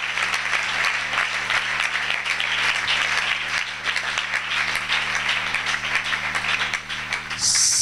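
A church congregation at a Sunday service applauds loudly and steadily, a dense wash of many hands clapping that fills the whole stretch without pause.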